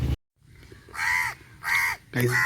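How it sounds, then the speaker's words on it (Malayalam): A crow caws three times, loud and harsh, after a brief silence. The calls come in drawn-out bursts with short gaps between them. "കാക്ക കിടന്ന് കാറി വരുന്ന മനുഷ്യനെ ഡിസ്റ്റർബ് ചെയ്തുകൊണ്ടിരിക്കുക"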